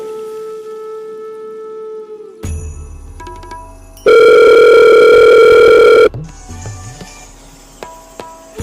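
Telephone tones during a phone call in a school play: a steady dial tone, then a loud, sustained electronic ringing lasting a couple of seconds, followed by fainter beeps and line noise, with no talking.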